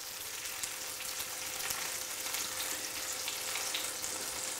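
Fresh mackerel fillets fry skin side down in a hot pan, a dense, even crackling sizzle that holds steady throughout with faint spits and pops.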